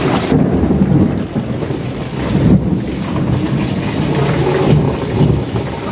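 A heavy thunderstorm with strong wind, dense pouring rain hissing steadily and loud thunder claps cracking and rumbling nearby, with no one speaking.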